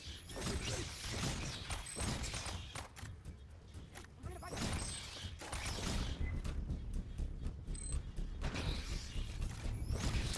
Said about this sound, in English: you're going to get the prompt to unlock the exit door